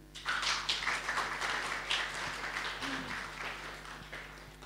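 An audience at a literary conversation in a manor hall applauds, a steady, fairly quiet patter of clapping heard from mid-distance that lasts a few seconds with no talk over it.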